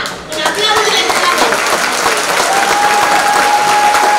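Audience applause at the EURO DANCE 2024 dance show, a dense, loud wash of steady clapping from a large crowd that swells in after a brief dip and holds throughout.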